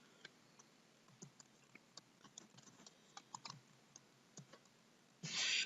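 Keys tapped on a computer keyboard in a scattered, uneven rhythm of soft clicks, close and alone, ending in a brief burst of louder noise.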